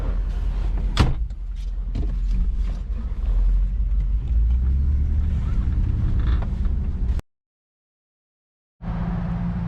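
A V8-swapped Willys Wagon drives along the road with a steady low engine rumble and road noise inside the cabin and a couple of knocks, then cuts out briefly before resuming.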